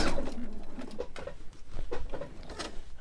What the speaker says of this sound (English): I've got plenty on this side, so I'm just going to sew through.